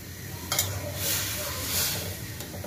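Coconut and rice mixture for rice-flour pitha cooking in a pot, a soft continuous hiss and bubble with a few gentle stirring scrapes, close but quiet.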